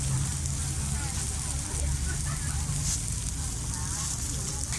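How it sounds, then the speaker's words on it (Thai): Saba mackerel grilling on a stove at a Japanese street-food stall in a Bangkok market, giving a steady, dense sizzle that runs the whole time under a busy background hum. "ปลาซาบะย่างร้อนๆ บนเตา"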